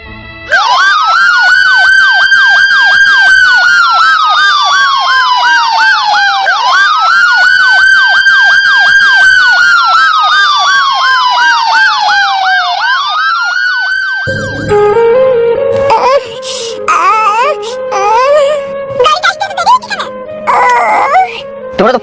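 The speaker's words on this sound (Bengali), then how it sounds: "চিন্তা করো না, এখনই অ্যাম্বুলেন্স আসছে" A loud, close ambulance siren wails in long rising and falling sweeps, then switches to a faster, choppier warble pattern for the final stretch.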